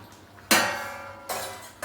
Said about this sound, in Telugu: చూడండి మూత తీసేస్తున్నాను